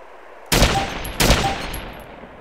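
A 7.62 semi-automatic rifle in the DayZ game fires two loud, close shots about three-quarters of a second apart, each a sharp crack with a broad, slowly fading echo.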